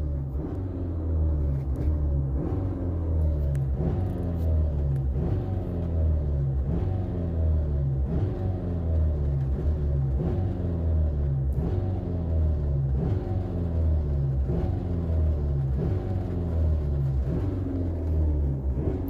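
Hyundai i30 engine held at full throttle, a steady loud droning rumble with a rhythmic pulsing beat throughout, no talk over it.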